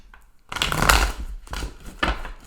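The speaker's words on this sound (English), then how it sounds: "Let's give it a couple more shuffles, or we're doing the pre-shuffle." Wizard's Tarot cards being shuffled by hand in bursts of riffling, papery flutter, close and fairly loud, with brief pauses between shuffles and no talking.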